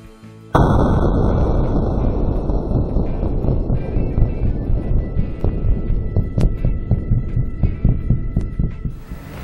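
A .308 rifle fired with a bare muzzle and no brake: one sharp, very loud report followed by a long ringing decay, with fainter pops and clicks trailing off over several seconds.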